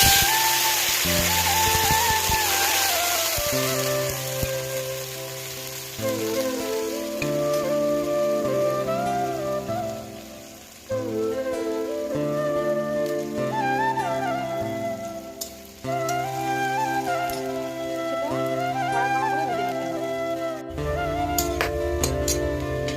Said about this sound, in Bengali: বড়িটা ভাজা হয়ে গেছে, এবার উচ্ছেটা ভেজে নেব।